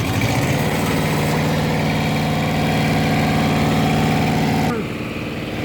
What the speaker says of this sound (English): In the bottom you can see the electric generator, and you can see few belts. It is going to run now.